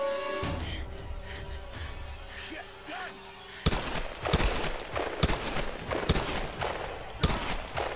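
Gunshots in the Tomb Raider video game ring out as a handful of sharp, loud cracks spaced irregularly over several seconds, after a quieter stretch of background game sound.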